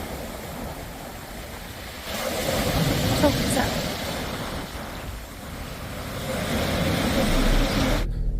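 Surf washing and rolling over a pebble beach with a steady rushing roar and wind noise, swelling louder in places; a person speaks briefly over it.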